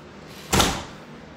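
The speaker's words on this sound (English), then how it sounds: "Because this door is so hard to shut." A door that is hard to shut, just outside a building, closes with a single sharp, close thump in an otherwise quiet moment.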